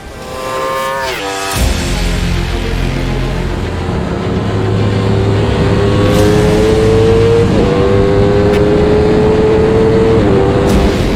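A 2020 Aprilia RSV4 RR superbike engine is blipped hard close by, snapping up in pitch and dropping back, then holding a loud, steady rev that creeps higher.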